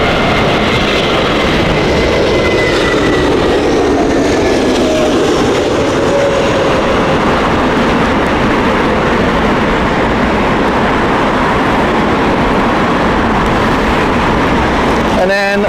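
A Lufthansa Airbus A320neo on the Frankfurt flight lands at Heathrow in strong crosswinds, a loud, steady jet roar with broad rushing wind noise that stays heavy for the whole stretch.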